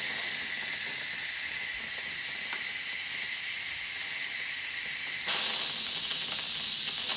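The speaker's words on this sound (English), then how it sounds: "So we're going to press this button and release the steam." Steam hisses steadily from the release valve of a Pampered Chef Quick Cooker electric pressure cooker, a loud continuous rush with no talking that shifts and thins slightly toward the end.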